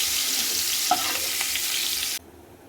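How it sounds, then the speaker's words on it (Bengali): Shrimp rubbed with salt and turmeric fry in hot oil in a pan, giving a steady, loud broadband sizzle with a few utensil clinks, then cutting abruptly to quiet. "চিংড়ি মাছগুলো লাল লাল করে ভাজা হয়ে গেছে,"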